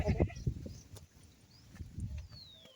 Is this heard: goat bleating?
yes